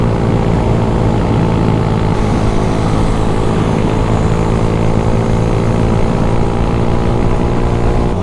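Honda Wave motorcycle engine labouring up a hill in fourth gear and losing speed, a loud, close, steady drone with a rough, buzzing tone held throughout.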